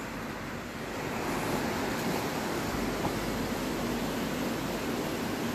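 Water of Gold Brook rushes beneath a covered bridge, a loud, steady broadband wash with no breaks, heard close and alone.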